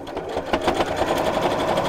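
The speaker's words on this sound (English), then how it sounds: "So now I'm just going to sew down the sides and across the bottom just to hold that in place" A sewing machine runs a lengthened stitch close to the edge down the sides and across the bottom of a fabric bag, making a loud, continuous mechanical whir with a quick rhythmic pulse and no voices.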